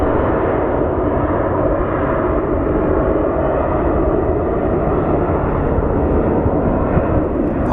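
A steady, loud roar from an Envoy airliner at Phoenix Sky Harbor airport, running at an even level without pause, with no voices over it.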